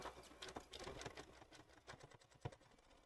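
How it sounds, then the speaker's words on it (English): A sewing machine stitches a fabric strap, a faint, fast, uneven patter of needle strokes with brief speed changes and light bumps, with no one speaking over it. "How fast can we sew a strap, Leah?"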